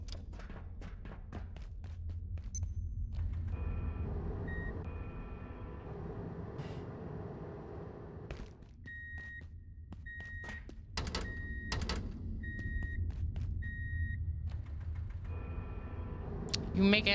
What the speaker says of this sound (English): You making that beeping noise